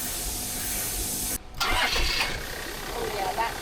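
A car engine cranks and catches after a brief pause, then idles with a steady rumble and some rattling, while people talk over it.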